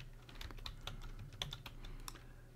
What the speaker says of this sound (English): And we're going to type in contemporary